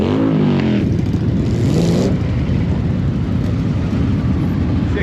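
A column of motorcycles rolls out at a city season-opening ride in Vilnius, filling the air with a loud, continuous engine roar; one machine sweeps past close by early on, then a dense rumbling drone holds steady with no voices.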